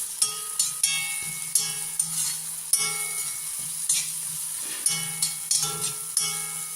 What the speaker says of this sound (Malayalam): സാമ്പാർ പൗഡറിൻ്റെ പച്ചമണം പോകുന്ന വരെ നമ്മൾ നന്നായിട്ട് വഴറ്റണം.